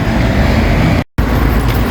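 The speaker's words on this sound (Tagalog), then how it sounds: "traffic." Road traffic in Łódź, Poland, makes a loud, dense street roar of cars, broken by a brief moment of complete silence, with no speech.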